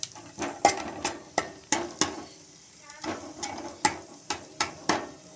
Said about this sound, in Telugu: కర్బూజా అన్నట్టు ఇవి కూడా ఫ్రై చేసుకుందాం.